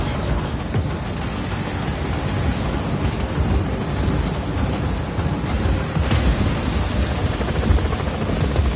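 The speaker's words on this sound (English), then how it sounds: "If you're about to get struck by lightning, Rico, just move." A thunderstorm with lightning in the video game Just Cause 4, heard as steady heavy rain and low rolling thunder that fill the whole stretch without any speech.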